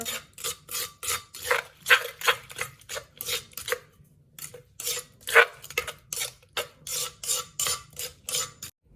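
A spoon stirs and scrapes a chili paste mixture in a bowl or mortar, with repeated rhythmic clinks and scrapes at close range and brief pauses between strokes.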